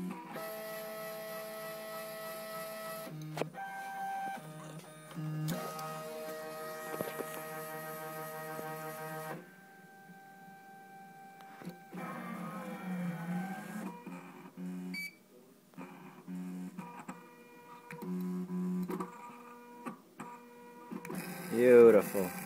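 Gravograph IM4 engraving machine cutting an anodized aluminum name plate, a whining motor drone with sustained tonal pitches that shift and pause as the spindle moves, steady and close throughout.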